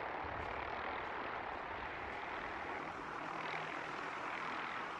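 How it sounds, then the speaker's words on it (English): Helicopters in Fallout 4 flying overhead, a steady broad engine and rotor roar that stays loud and even throughout, with no voices. "Oh, bloody helicopters flying around everywhere"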